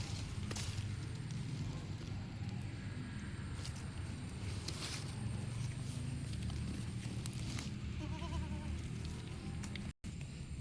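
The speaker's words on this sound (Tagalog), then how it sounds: "Kambing." Goats bleat faintly at a rural farm lot, a few short calls at a distance over a steady low background rumble and outdoor noise, with occasional footsteps.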